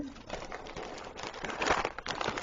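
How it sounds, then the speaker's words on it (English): A pigeon or dove coos indoors, its soft repeated calls running steadily through the whole stretch alongside faint crinkling of packaging nearby. "that bird is going to be all we hear in here for a while"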